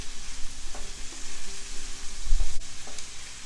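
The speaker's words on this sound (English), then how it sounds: "And we're going to stir these up and let them saute and get a little soft." Celery and other vegetables saute for a shrimp and chicken sausage gumbo, a steady close sizzle and fry with occasional soft scrapes and knocks of stirring in the pot, no talking.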